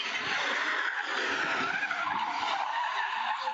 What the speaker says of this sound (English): Sparks flying after the silver Toyota Avalon hits a parked car, then spins out of control